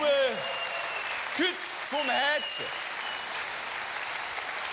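A television studio audience cheers and applauds in a steady wash of sound while someone talks loudly over it near the start.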